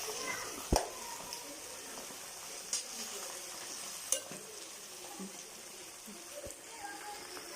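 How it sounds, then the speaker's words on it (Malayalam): Chicken frying in a pan for a homestyle fried chicken biryani, a soft continuous sizzle with a few sharp utensil clacks spaced through it, fairly quiet. "നമ്മുടെ ചിക്കൻ ഇവിടെ ഫ്രൈ ആയിക്കൊണ്ടിരിക്കുന്നുണ്ട്."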